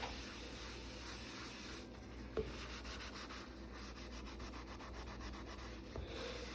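A stain on a quartz countertop is scrubbed with an abrasive under firm pressure, making a continuous gritty rubbing rasp with quick back-and-forth strokes, close up and steady, with no talking.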